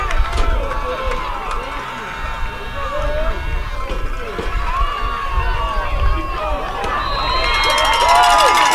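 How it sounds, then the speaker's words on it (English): A crowd at a high school varsity football final cheers and shouts steadily during a running play, with scattered individual voices rising over the broad roar. "Crowd cheering the effort."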